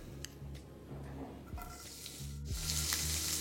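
Chopped ginger sizzles in hot oil in a pan, a faint, steady crackle that swells louder near the end, with a few soft clinks and stirring sounds.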